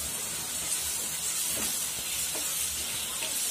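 Chili powder, garam masala and turmeric sizzle in hot oil in a pan while cooking aloo matar sabzi. A steady, close hiss with faint stirring scrapes runs continuously throughout.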